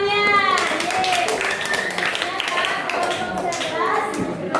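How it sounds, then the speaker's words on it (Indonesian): Grade 8 students in a classroom clap for a classmates' group, with brisk, close clapping mixed with children's voices and cheering. "tepuk tangan dong untuk temannya"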